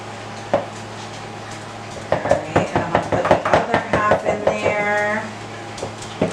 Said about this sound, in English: I'm going to slowly mix the wet and the dry ingredients.